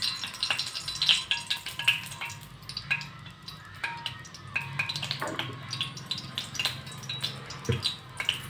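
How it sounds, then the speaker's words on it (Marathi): Oil spooned into a heated iron wok for tempering, giving faint wet drips and light clinks of metal against the pan, with soft scattered trickling and rattles in a quiet kitchen. "लोखंडी कढई असल्यामुळे आपण तेल लावून ठेवलेलं होतं. 3 चमचे आपण तेल घालत आहोत."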